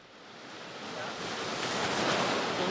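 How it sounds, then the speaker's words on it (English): Roaring torrent of meltwater rushing off a glacier, a dense, steady broadband rush that swells louder across the clip, heard alone with no voices. "the sound of melting water rushing off the glacier turned into a roar"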